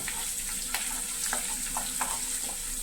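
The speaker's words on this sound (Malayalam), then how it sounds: "ഒരു പീസ് ഇഞ്ചി നന്നായി ഇളക്കി കൊടുക്കുക" Ginger and garlic sizzling in hot oil in a pan for a Kerala fish curry, a constant bright hiss with occasional scraping stirs of a spoon, close and steady with no talking.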